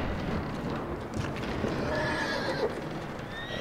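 A horse in Red Dead Redemption 2 neighs and whinnies while its hooves clip-clop steadily nearby, loud and clear, with no talking.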